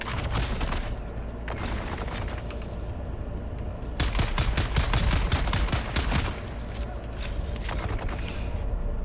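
Video game battle with a dense fusillade of gunfire and grenade explosions, bursts of rapid shots building to a heavy barrage in the middle and continuing loud and close throughout.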